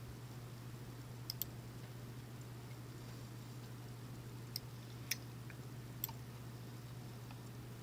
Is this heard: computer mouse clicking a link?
yes